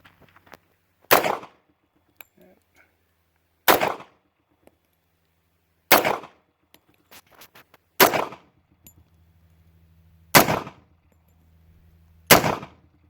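Six loud, sharp gunshots from a Star PD .45 ACP pistol fired at an outdoor range, spaced about two seconds apart with quiet gaps between each report.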